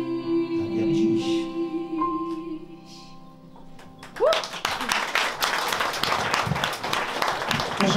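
An audience at a cabaret-style satirical evening in a cellar venue bursts into sustained applause right after a sung ending, dense clapping that continues to the end with a presenter's voice briefly over it.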